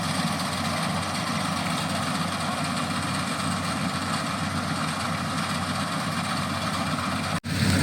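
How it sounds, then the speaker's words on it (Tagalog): A reaper harvester engine runs steadily on a rice farm, a loud continuous low drone and mechanical rumble without pause, with a brief cut near the end. "mag-harvest. Ayan po yung reaper harvester."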